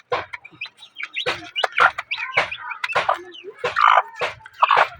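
Newly hatched chicks and ducklings peep close by in bursts of high, bright chirps, one tumbling over another with short pauses, loud and lively with no talking.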